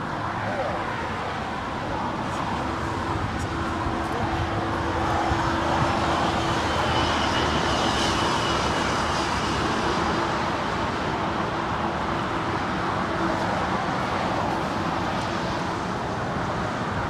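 A Lufthansa Boeing 747 jet airliner flies at Los Angeles International Airport, a steady, broad, distant roar with a faint tonal hum that swells slightly and holds throughout.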